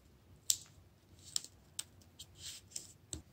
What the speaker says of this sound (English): You're going to take the other corner and fold it into the middle.